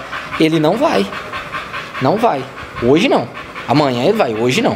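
A territorial, dominant dog pants in repeated bursts and lets out whimpering whines, close and fairly loud, while a person talks over it throughout.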